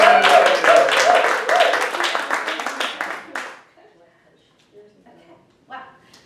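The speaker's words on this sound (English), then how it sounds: "Nice round of applause for Estella!" An audience claps for Estella, a truck driver, in a lively burst of applause that fades out after about three seconds, leaving quiet with a few faint scattered sounds.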